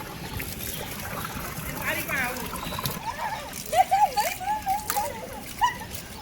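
A child plays with a garden hose beside an empty swimming pool on a summer outing, the water splashing in irregular bursts and slaps, with voices talking throughout in the background.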